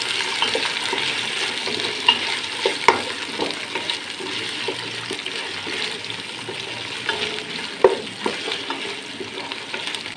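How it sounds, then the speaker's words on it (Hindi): Boiled beef frying in ghee for beef fried rice, a continuous crackling sizzle throughout, punctuated by occasional sharp scrapes and knocks of a spoon stirring in the pot. "गोश्त को फ्राई करेंगे।"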